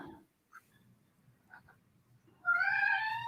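A cat lets out one drawn-out, tonal meow near the end, close and fairly loud, after a stretch of quiet room sound with a few faint stray noises.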